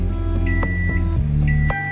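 Short electronic beeps from an LG charcoal microwave oven chime a couple of times over a steady, loud humming drone of the oven running.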